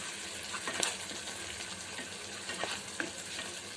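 Ground tomatoes are stirred into sizzling masala in a pan while making matar paneer, with a steady frying hiss and scattered soft spoon scrapes and clinks.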